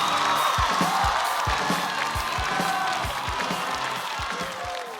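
A stand-up comedy audience cheers and applauds as a comedian walks onto the stage, a broad crowd roar over a steady, rhythmic thumping beat.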